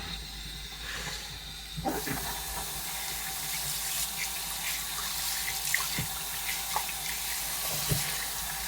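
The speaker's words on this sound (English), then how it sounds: "wash my brush under fairly hot water" Fairly hot tap water runs steadily into a sink as a shaving brush is rinsed under it, a continuous close hiss with small splashy shifts as the brush moves.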